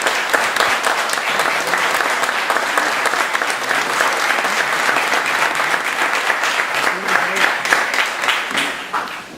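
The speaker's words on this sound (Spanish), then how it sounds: "con este aplauso" A crowd gives sustained, loud applause to welcome a political speaker at a public event in Reinosa. The clapping is thick and steady, with no speech over it.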